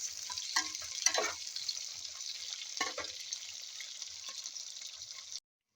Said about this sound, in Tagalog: Now we have to fry this one in 2 to 3 minutes.